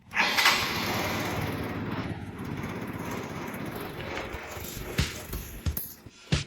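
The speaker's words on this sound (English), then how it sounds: "It fired right up. The exhaust is leaking everywhere." A Yamaha JOG 50cc two-stroke scooter engine, freshly rebuilt, sputters to life and keeps running with a rough, buzzing drone, close by, with a few sharp knocks toward the end; the exhaust is leaking.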